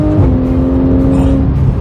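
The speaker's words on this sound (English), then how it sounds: "Screaming car." A Porsche 911 GT3 Street Cup tuned by HG Performance screams at high revs, a loud, sustained engine wail with steady harmonic tone held close throughout the short stretch, no talk over it.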